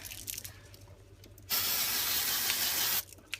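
Spray can hissing onto a popcorn ballerina cake set inside a cardboard box, one loud continuous burst of about a second and a half, with faint background noise before and after.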